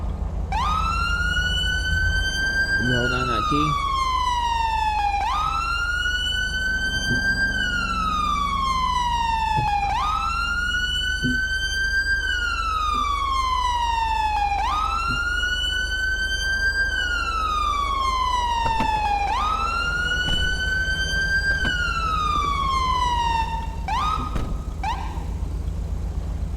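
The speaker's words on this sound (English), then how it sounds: "Manual siren." Police car manual siren in GTA V with the LSPDFR mod, sweeping up and down in about five loud wail cycles over a steady engine hum, with brief talk near the start.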